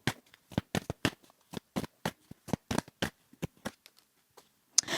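Tarot cards are shuffled by hand in a quick, uneven series of crisp riffling snaps that pause briefly, then resume with one last sharp flick, close and clear with no talking.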